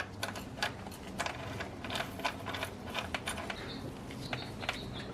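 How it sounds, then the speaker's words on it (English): An 8mm bolt being threaded and tightened on a BMW E36 serpentine belt tensioner pulley, rapid clicking ratchet strokes and metallic ticking in a workshop, fairly quiet with no talk. "Thread our 8mm bolt through there."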